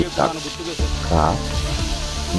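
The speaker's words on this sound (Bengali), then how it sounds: "গরম তেলে দেওয়া হচ্ছে ভাজি করার জন্য" Hilsa fish frying in hot oil in Chandpur, a steady close sizzling hiss running throughout beneath someone talking.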